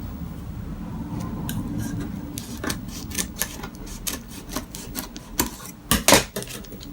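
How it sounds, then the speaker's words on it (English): Parchment paper being trimmed and folded for a round cake pan, giving soft rustling and crinkling under a low steady background hum, with a few sharper crisp rustles toward the end. "I'm going to just trim a little bit off and just fold it back up"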